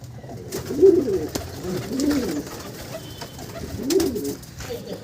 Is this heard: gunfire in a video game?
no